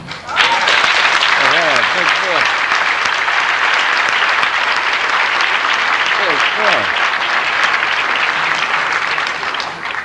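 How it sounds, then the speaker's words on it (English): Audience applause fills a hall at a jazz award concert, a loud, dense, sustained round of clapping lasting about ten seconds, with a brief voice at the start. "may we have a big hand for Mr. Phil Schaap"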